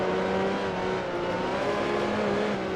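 Sports race car engines in the racing game Grand Prix Legends drone in a continuous, steady roar, with several engine tones blending together close by.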